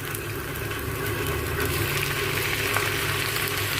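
Tomatoes go into golden-brown onions frying in a pan, giving a steady sizzle with a low background hum, moderately loud and continuous, with no talking.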